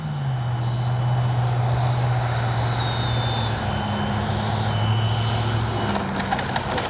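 A Freewing JAS-39 80mm RC jet on landing approach in the evening, its steady ducted-fan whine droning at a constant level and slowly dropping in pitch, with a few faint clicks toward the end.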